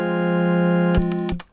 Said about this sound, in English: The Omnichord. By itself with nothing, it sounds like this.